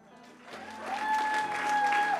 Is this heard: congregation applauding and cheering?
yes